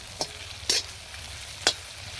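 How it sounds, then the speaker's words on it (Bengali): Potatoes frying in a pan with chili powder and salt, stirred with a utensil: three sharp scraping strokes over a steady low sizzle, close and fairly loud, with no voices. "আলু আমাদের লাল লাল ভাজা হয়ে গেছে"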